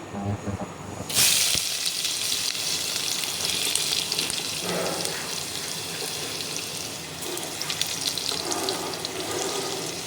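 Garlic dropped into hot oil for dal fry bursts into a loud, sudden hiss that settles into a steady close sizzle, continuing without speech.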